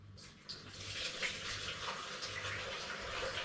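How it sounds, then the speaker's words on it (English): Homemade raspberry and lemon cider is poured from a jug through a coffee filter, a soft, steady trickling stream that continues close and quietly without pause. "and then pour it"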